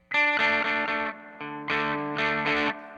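A Gibson SG Special electric guitar rings out through distortion, a few gritty chords struck and held in short bursts with brief gaps, loud and close.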